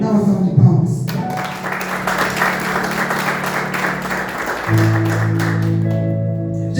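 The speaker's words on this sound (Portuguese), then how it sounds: "Dá uma salva de palmas." A church congregation applauds during a worship service, a broad sustained patter of many hands over a held musical tone, with the clapping steady throughout.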